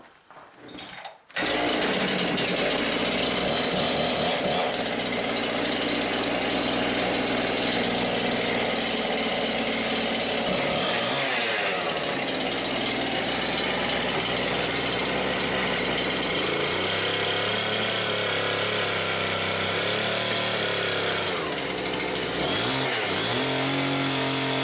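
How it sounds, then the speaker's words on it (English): A chainsaw roars continuously at close range for the whole stretch, its pitch dipping briefly twice as it bogs down under load. "Let's grab the chainsaw."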